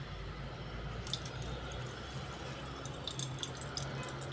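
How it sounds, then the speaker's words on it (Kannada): Water drains off about one and a half cups of soaked rice for a jackfruit dosa batter: a soft, steady trickle with scattered drips and splashes, fairly faint and close, with no voices. "ಇದರಲ್ಲಿರೋ ನೀರಿನ ಅಂಶವನ್ನು ನಾನು ಸ್ವಲ್ಪ ತಕ್ಕೋತೀನಿ."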